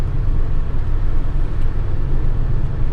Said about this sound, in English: it just has that lovely, throaty, old school American V8 sound